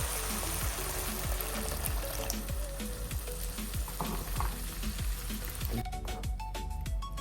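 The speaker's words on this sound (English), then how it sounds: "And right now I will add water." Water pours into a cooking pot of stuffed chicken with freekeh, a soft continuous splashing stream under a faint sizzle, with a repeating light tapping throughout and no voices.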